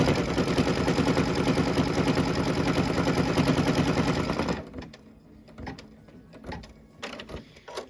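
A home embroidery machine stitches gold thread on a Kimberbell Main Street fire house quilt block, a loud, steady, rapid mechanical chatter that stops abruptly partway through, leaving quieter clicks and handling noises.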